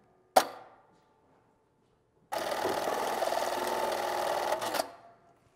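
A sewing machine stitches a suppressor cover in a small workshop: one sharp click, a pause, then a steady, loud mechanical whir for about two and a half seconds that stops abruptly, with no talking.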